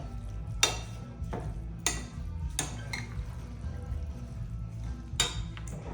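Creamy chicken salad with grapes being gently tossed in a bowl, soft wet stirring with several sharp clinks of a utensil against the dish at irregular intervals, close and quiet.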